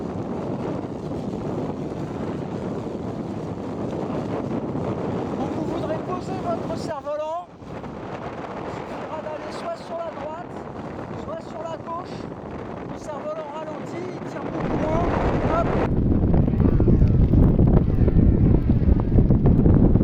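Wind blows on a steerable kite lying on the ground, a constant rushing buffet against the microphone that grows louder and rougher toward the end, with someone speaking French over it.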